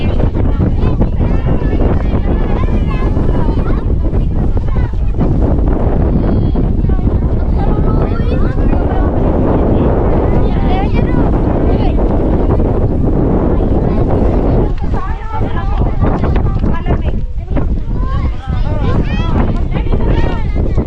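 Strong wind roars and buffets the microphone continuously, loud and rough throughout, with occasional voices breaking through.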